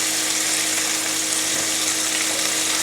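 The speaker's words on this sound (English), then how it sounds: "After a few minutes, you can start to hear that sizzle." Steady, continuous hiss and crackle of chicken wontons frying in a hot pan, even and unbroken throughout.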